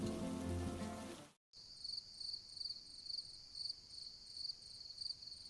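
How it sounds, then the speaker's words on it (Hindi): Night rain patters on a tin roof in a steady, faint wash while crickets chirp in repeating bursts, following a brief, louder, different sound that cuts off abruptly at the start. "बाहर बारिश की बूंदें टिन की छत पर संगीत पैदा कर रही हैं।"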